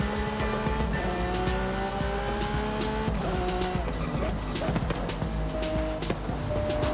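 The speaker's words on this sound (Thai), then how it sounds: "เดี๋ยวผมจะขับไปกันแล้วกันนะครับผมให้ทุกคน ฟังเสียงรถคันนี้นะครับผม" The Lamborghini SC20 in Forza Horizon 5 roars continuously and loudly, its engine note rising through gears with tyre squeal and skidding over a racing sound mix, and no voices.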